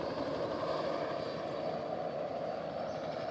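Continuous low rumble and drone of a helicopter flying overhead outdoors at a rural site, steady and moderately faint throughout, with no voices.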